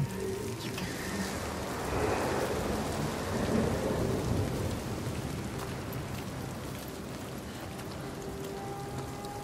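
A thunderstorm in Hellblade 2 brings steady heavy rain pouring down, with deep rolling thunder that swells and fades, loud and continuous with no speech.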